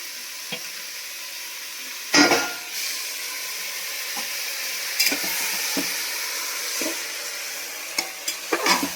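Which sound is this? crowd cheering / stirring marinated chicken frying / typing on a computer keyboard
stirring marinated chicken frying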